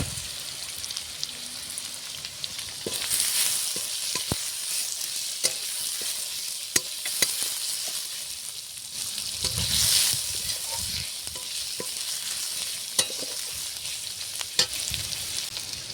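Chopped onions frying in hot oil in a pan, a continuous close sizzle with occasional sharp pops and spatula clicks swelling at times, no talking.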